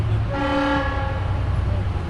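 Trains move through Sandouk railway station on the line to Zagazig. A loud, sustained multi-tone train horn blares over a steady low rumble of rolling railcars.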